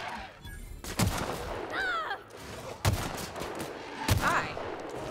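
Gunfire in the action game The Outer Worlds, three loud separate shots about a second apart, each with a ringing tail, over background game sounds and electronic chirps.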